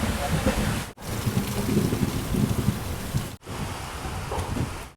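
Heavy rain pours steadily during a train journey from Goa toward Mumbai, a loud continuous broadband hiss and patter that cuts out briefly twice, with faint voices underneath.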